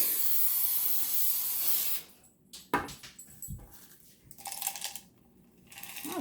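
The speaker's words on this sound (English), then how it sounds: "I'm gonna try to spray this middle thing a little better because nothing is really sticking to that." Cooking spray hisses from an aerosol can into a bundt pan for mac and cheese, heard in a steady broad burst at first and then in a few shorter bursts, close up with no talking.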